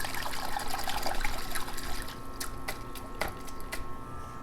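Water sloshing and trickling steadily as a plant's roots are rinsed by hand, with a few sharper splashes near the end.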